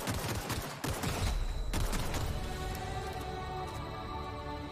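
Rapid gunfire in The Outer Worlds video game: a dense, loud burst of overlapping shots lasting several seconds, then a fading ringing tail.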